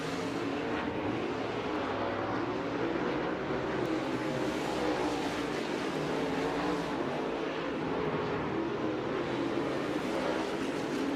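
Dirt late model race cars running hot lap qualifying at Florence Speedway, a steady distant roar of engines that holds without a break.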